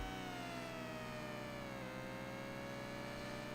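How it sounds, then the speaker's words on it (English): A constant buzzing, droning engine tone from an emulated Namco arcade racing game, run in MAME, fills the scene evenly. A slowly sliding pitch sits on top of a dense, unchanging hum, with no voices. "there's the horrible engine noise that has never been fixed in MAME, where there's always this buzz in the background"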